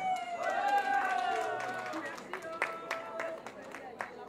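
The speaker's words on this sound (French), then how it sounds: "Veuillez l'applaudir." Audience applause at a humanitarian charity conference in Paris as a donation is announced, starting under a voice and thinning into scattered claps that trail off near the end.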